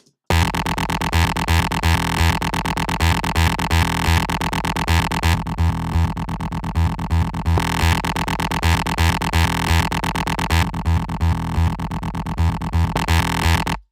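A loud, buzzy bass synth with gritty, growling distortion, playing a repeating rhythmic pattern that drives steadily with no voices.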